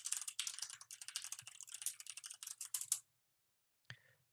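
Rapid, close keyboard typing as code is entered on a computer, a dense run of clicks for about three seconds, then silence and one brief final tap.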